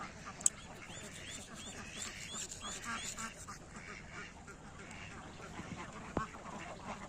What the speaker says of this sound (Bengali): এখানে 740 পিস হাঁস আছে।